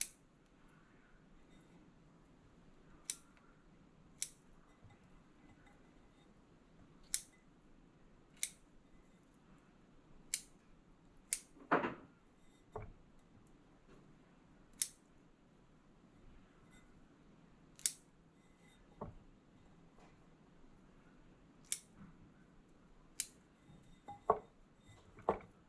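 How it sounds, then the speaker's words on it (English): Sharp, isolated snips or knife clicks of cherries being cut into quarters for a fruit bread, recurring every second or two against a quiet kitchen background, with one louder thump midway. "Just the cherries, just to cut them in quarters."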